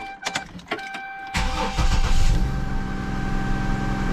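An Isuzu engine, just repaired for a misfire, cranks briefly with a few short bursts, then catches and settles into a loud, steady idle that continues close by to the end.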